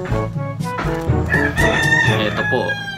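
A rooster crows loudly and close by, one drawn-out call, with other birds clucking around it.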